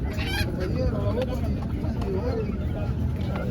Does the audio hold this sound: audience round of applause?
no